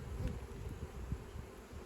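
Honey bees buzz steadily around an open brood frame full of pollen during a small-colony hive inspection, a soft, continuous low drone with no talking.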